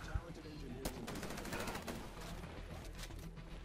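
Carbine fire in the video game Titanfall crackles in sharp single shots and short rapid bursts over a busy battle background, moderately loud and repeating throughout.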